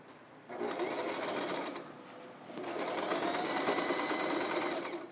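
A sewing machine top-stitches the turned-under sleeve edge of a dress shirt being made into a little girl's dress, running in two steady whirring bursts with a brief slowdown between them, close and alone.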